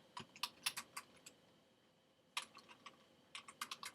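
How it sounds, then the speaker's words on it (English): Bursts of typing on a computer keyboard, quick clustered key clicks at the start, a quiet pause, then two more rapid runs of keystrokes, close and fairly soft. "I'm going to type that in."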